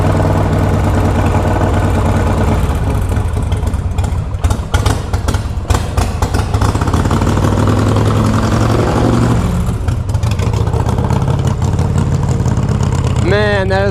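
Engine of a 2007 custom bobber motorcycle running steadily in gear, a continuous loud low rumble with uneven throttle bursts, plus a voice talking briefly near the end.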